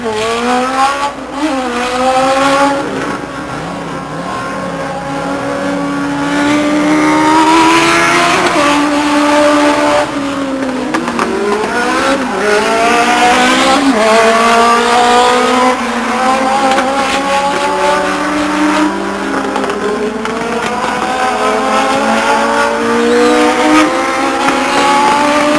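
Legends race cars lap Stockton 99 Speedway, engines revving and swooping in pitch as they pass close, tires squealing on a slick track, loud and continuous the whole way.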